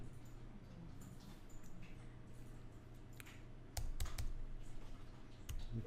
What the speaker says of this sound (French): vous mettez le curseur texte et vous allez taper fruit